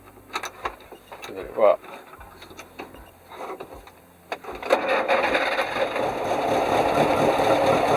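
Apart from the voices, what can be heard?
old car engine starting with choke and starter pull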